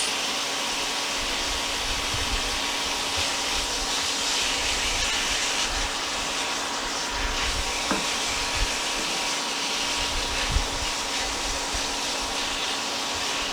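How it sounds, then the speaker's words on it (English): Stew meat and onions browning in a pan, a steady broad hiss of sizzling that runs evenly throughout at moderate level, with occasional small crackles and no talking. "we're going to brown this with our onions"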